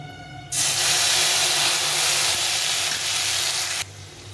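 Ground ginger, cumin and chili paste hits hot oil for a hilsa fish curry and bursts into a loud, hissing sizzle that holds steady for about three seconds before cutting off abruptly.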